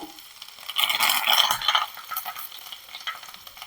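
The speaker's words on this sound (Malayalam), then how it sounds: "പിന്നെ ഇടുന്നത് കറിവേപ്പില കേട്ടോ" Curry leaves drop into hot oil and burst into a loud, crackling sizzle that swells for about a second, then settles into quieter spitting and frying while potato masala is being prepared.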